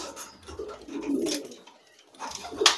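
Pigeon cooing up close, a few soft throaty warbling coos with rustling and handling noise around them.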